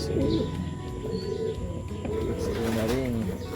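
Racing pigeons given as gift birds coo in low, rolling calls, close and steady, with faint chirps and background noise.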